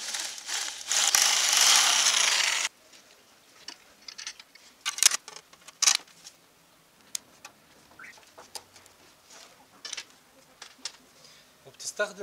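Car headlight bolts being tightened with a ratchet, a series of close, dry clicks and ticks in uneven bursts after a loud noisy opening segment, with some talk in the background.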